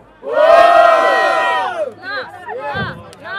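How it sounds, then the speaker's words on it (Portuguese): A crowd at a street rap battle final in São Gonçalo, Brazil, erupts in a loud, sustained chorus of cheering and shouting that breaks into scattered yells and chants, close and dense. "Mão pro alto e barulho, Eldin!"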